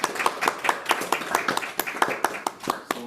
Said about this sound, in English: big round of applause to Jaipal and Sri Reddy